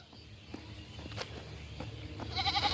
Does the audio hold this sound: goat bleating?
yes